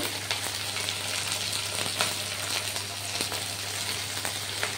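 Spice paste with turmeric powder frying in a pan for a pumpkin and leafy-greens curry, a steady close sizzle with faint crackles and occasional stirring scrapes, no talk.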